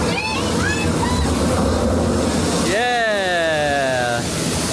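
An interactive water feature at EPCOT splashes and rushes loudly and continuously, with a rising whoosh near the middle as a voice talks over it.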